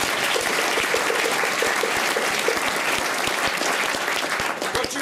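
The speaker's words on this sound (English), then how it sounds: "How about a round of applause for them?" Dense, steady applause from an audience at a Maori welcoming ceremony in a Rotorua village, clapping for the chiefs; many hands at close range fill the whole stretch, easing off slightly at the end.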